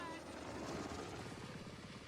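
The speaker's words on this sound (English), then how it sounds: "Alright, so the helicopter goes down." A helicopter going down in the James Bond video game 007 First Light, a steady loud rotor and engine roar with a pulsing beat, heard close and continuous for a couple of seconds.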